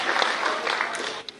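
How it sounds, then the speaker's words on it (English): A short burst of audience applause for athletes at a sports awards gathering: a dense wash of clapping that fades out near the end. "let's give each other, in fact all of you, a huge round of applause"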